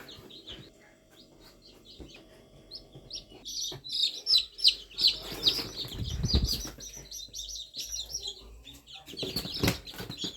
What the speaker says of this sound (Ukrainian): Такі красиві курчаточка.